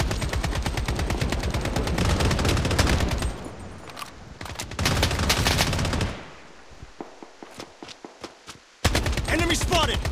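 Rapid automatic gunfire rattles in the video game Project Bloodstrike, loud, close bursts alternating with pauses and sparse single shots, then another dense burst at the end, with in-game voice callouts mixed in.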